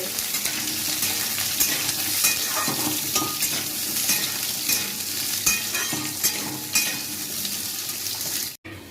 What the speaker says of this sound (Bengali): এর ফোড়নটার মধ্যে আলুটা দিয়ে দিলাম। এই আলুটাকে ভালো করে ভেজে নিতে হবে।